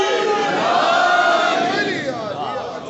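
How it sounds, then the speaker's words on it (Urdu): A large crowd at a religious celebration shouts the Naara-e-Haidari slogan in unison, a loud, sustained roar that stays steady through the response, with no solo voice over it. "مل کے نعرہ لگائیں تاکہ پتہ چلے آج ولایت آل محمد کا دن ہے. نعرے حیدری"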